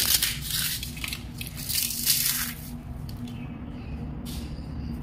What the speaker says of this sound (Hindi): अब मैं एक पापड़ आपको तोड़ करके दिखाती हूँ